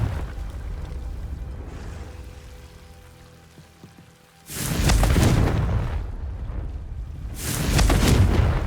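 Two roaring, broadband fire-spell blasts of the Confringo spell in the Hogwarts Legacy video game, each a loud whooshing burst lasting about two seconds, following a quieter stretch of low rumbling game ambience.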